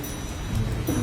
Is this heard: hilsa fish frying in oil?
no